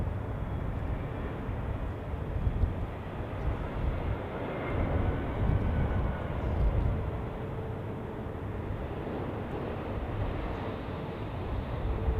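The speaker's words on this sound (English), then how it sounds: "There we have Qatar on final." A Qatar Airways airliner on final approach at Zurich Airport in stormy weather gives a low, continuous rumbling roar that swells slightly and then evens out. It stays fairly distant throughout, with no talking.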